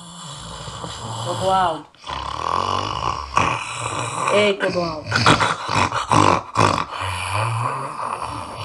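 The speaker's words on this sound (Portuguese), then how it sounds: "vira pra lá porque tu tá roncando muito alto" A man snores loudly in a room with a rough, growling rhythm of drawn-out breaths, while another man repeatedly calls out to him over the snoring.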